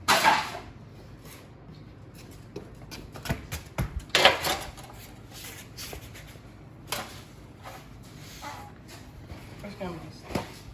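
Under a 2000 Ford Contour during rear drum brake repair, a drain pan is shifted and knocked about. Scattered close clunks, scrapes and light metallic clatters come in uneven bursts while someone talks.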